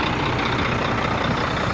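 Steady loud rumble of a truck from inside the cab while hitchhiking after a car breakdown, continuous engine drone with road noise filling the whole stretch, no talking.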